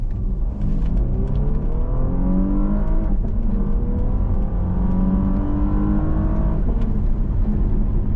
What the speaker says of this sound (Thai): แต่ว่าก็ได้ยินเสียงท่อมันก็ชัดอยู่นะ